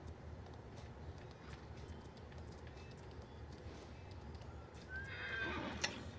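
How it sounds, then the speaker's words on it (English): Horse in the Farming Simulator 19 video game neighs and whinnies over steady clip-clopping hooves while being ridden, with a louder whinny near the end. "riding the horse, making sure it gets its exercise before I hit a pole"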